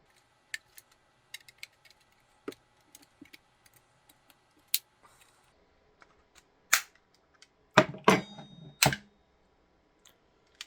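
A butter knife prying apart an Xbox controller's plastic shell makes sharp, close clicks and snaps at irregular intervals, with a few louder cracking pops near the end.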